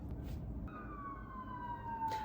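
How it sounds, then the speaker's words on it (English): A faint siren wails in the distance on a New York City street, a steady tone sliding slowly downward over a low background hum. "Apologies for the New York City sirens"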